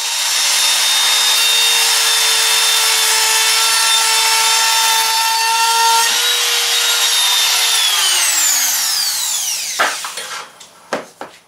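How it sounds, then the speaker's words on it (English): A trim router cuts along the edge of a wooden teardrop trailer build, whining loudly and steadily, then spinning down with a falling pitch before a few sharp knocks. "Now we'll just take our trim router, run it along that edge,"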